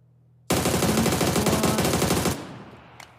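Automatic gunfire in a PUBG match rattles out as one loud rapid burst of shots lasting nearly two seconds, then tails off, with a single faint click after.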